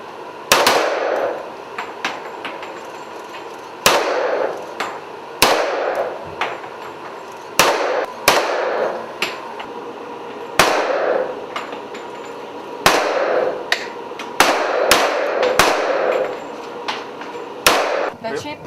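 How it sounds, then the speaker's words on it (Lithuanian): Sharp rifle shots ring out at a volunteer soldiers' live-fire military shooting exercise, more than a dozen loud reports in irregular succession with brief echoing tails, spread across the whole stretch. "Šitas ginklas, jūs pirmą kartą šaudot su šito ginklu."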